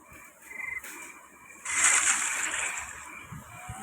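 Water splashing in the horror video game Granny, a brief burst of spray and sloshing that rises suddenly after a soft electronic tone, fairly close and loud.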